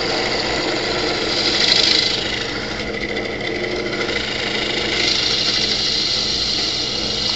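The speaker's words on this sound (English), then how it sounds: "This is a Craftsman, an old Craftsman drill press." An old Craftsman drill press from the 1970s hums and whirs steadily while drilling, a loud continuous motor drone with slight swells in intensity and no talk.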